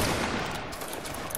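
Musket volley fired by a line of grenadier reenactors during drill, a dense burst of gunfire that rolls into a loud, sustained roar of reports and echo.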